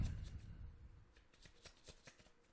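Tarot cards are shuffled and drawn in a quick series of soft riffling flicks and papery slaps. The sound is fairly faint and close, with no talking.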